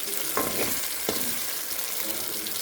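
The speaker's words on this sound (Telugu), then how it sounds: "ఇప్పుడు మనము పుదీనా అనేది తాలింపులోనే వేసుకోవాలి" Fresh mint leaves frying in hot tempering oil for a village-style chicken gravy, giving a steady sizzle with a few sharp stirring scrapes near the start, heard up close and alone.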